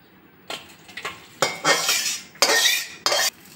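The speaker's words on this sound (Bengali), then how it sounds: "তেলটা ভালো করে এরকম করে নেড়ে ভালো করে গরম করে নিতে হবে।" A spatula stirs hot mustard oil in a wok, giving several short, loud scraping strokes with metallic clinks and brief quiet gaps between them.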